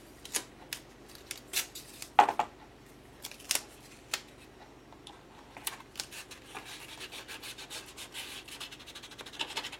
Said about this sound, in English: I'm going to put some black tape on that.